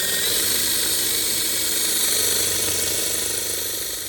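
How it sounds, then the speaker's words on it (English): Power drill boring holes with a 3/16 bit into a vending machine panel for a Nayax card reader, a loud continuous whining grind held steady throughout, no talking. "So I'm just gonna plug it into the drill and get those holes drilled out."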